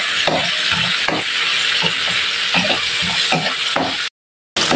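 Tomatoes frying in a pan for ginisa upo, a steady sizzling hiss broken by soft rhythmic scrapes of stirring, cut by a brief drop to silence near the end.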